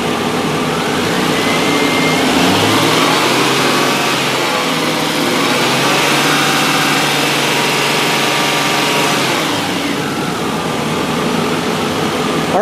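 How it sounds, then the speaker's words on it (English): A car engine revs steadily and loudly at about 2000 to 2500 RPM, holding a high, even drone throughout with a slight dip near the end. "we're now going to rev the engine up 2000 to 2500 RPM"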